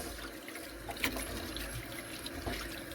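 Salt fish, a boneless fillet being prepared for Jamaican ackee and saltfish, rinsed under running water from a tap: a steady, close rush and trickle of water with no talking.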